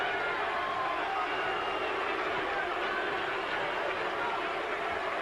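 A large boxing crowd at a heavyweight fight boos and roars in a dense, continuous wall of sound, steady and loud throughout, while a commentator talks over it.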